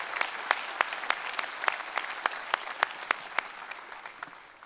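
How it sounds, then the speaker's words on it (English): An audience at a video game keynote claps in a moderate burst of applause, with a few sharp individual claps standing out before the sound gradually thins toward the end. "So you can clap for yourself now."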